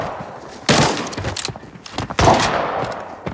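Gunfire in a video game shooter, with two sharp, loud nearby shots and scattered smaller cracks and thuds between them.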